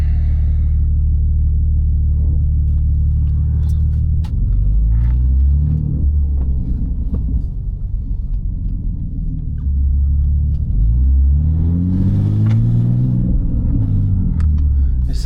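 A big-turbo BMW G80 M3 accelerates hard, heard from inside the cabin: a loud, deep engine roar rising through the gears with repeated pitch sweeps and shifts, with the driver's voice briefly over it.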